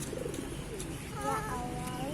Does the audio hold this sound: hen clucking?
no